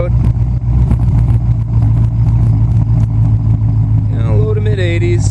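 A 2013 Camaro 2SS with a 3-inch exhaust, x-pipe and Flowmaster Pro HP mufflers idles loud and close with a deep throaty rumble. The engine rises in a rev toward the end, and a voice talks over it.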